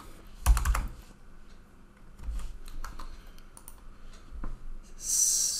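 Close computer keyboard typing as a command is entered for network configuration in a lab simulator, with a quick burst of keystrokes then sparser taps and a final key press, no voice.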